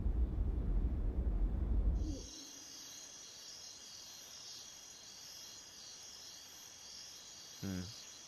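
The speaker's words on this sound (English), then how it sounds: "The sounds of the birds and the bugs and the crickets and whatever the hell that thing is." Crickets and other insects chirp steadily at night, a continuous high shimmering drone that stays faint and even, with a louder rumbling stretch at the start and a short low call near the end.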